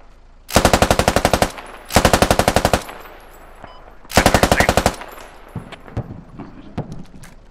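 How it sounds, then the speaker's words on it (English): Machine gun fire in the military shooter Squad comes as three loud, close, rapid bursts of about a second each, followed by fainter scattered shots. "Can anyone see where the fire's coming from or not?"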